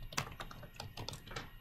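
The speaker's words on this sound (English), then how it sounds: "I can't see what I'm typing." Quick, soft keystrokes clatter on a computer keyboard in a brief irregular burst, close by and quiet.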